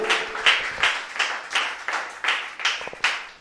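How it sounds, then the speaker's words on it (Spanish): A church congregation claps in a slow, regular rhythm of distinct unison beats, about two per second, during a worship service, with no speech over it. "Denle un aplauso al Señor por eso, hermano."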